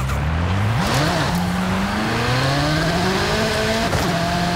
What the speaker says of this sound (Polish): nie jestem jakoś zaskoczony mocno dźwiękiem, może jest realny, ale nie jest taki gardłowy, jak lubię